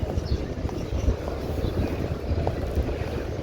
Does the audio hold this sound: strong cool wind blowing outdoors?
yes